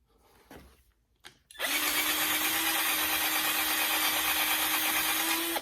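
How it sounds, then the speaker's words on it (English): Power drill boring a mounting hole for a Rugged Ridge stubby front bumper on a Jeep JK, starting after a few handling clicks and running at a steady loud whine to the end. "I may have to drill this side again just a little bit."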